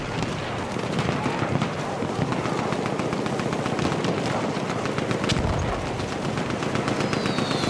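Sustained rapid machine-gun fire in Battlefield 1 on the Cape Helles map, dense overlapping bursts with distant explosions roaring continuously at close range for several seconds.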